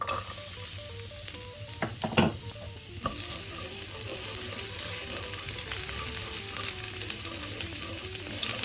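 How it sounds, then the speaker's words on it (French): Garlic fries in oil in an already hot pan, a steady close sizzle with a few sharp clinks and stirring scrapes early on, no talking. "Dans la même poêle, je rajoute un peu d'huile. Et j'y fais revenir l'ail."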